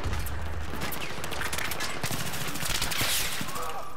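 Rapid automatic fire from a PP-19 submachine gun in a Battlefield 3 match, loud and continuous bursts crackling close by without pause, with other gunfire mixed in.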